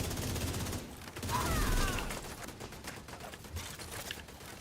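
Rapid gunfire bursts from an automated turret in a shooter video game, dense and loud with a brief swell in the middle, continuing under the game's background noise.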